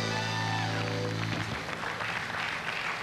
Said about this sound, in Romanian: Aplauze pentru Alain Delon, da?